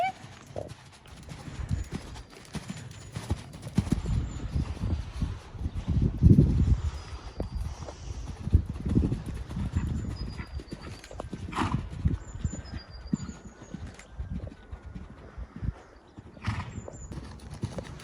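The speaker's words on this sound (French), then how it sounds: "là, je galope pendant des heures" A horse being ridden in a saddle test, hooves clip-clopping in a steady rhythmic gait at moderate distance, with occasional whinnies and faint background sounds throughout.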